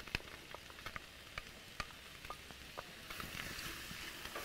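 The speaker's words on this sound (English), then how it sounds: "We're gonna be sauteing our mushrooms in this next." Mushrooms sauteing in oil in a pan give a quiet, steady sizzle dotted with small pops and crackles, with no talk over it.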